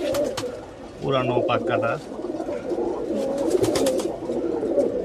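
Pigeons coo in a loft among male birds, a low warbling running throughout while someone talks nearby and sharp clicks and flutters break in.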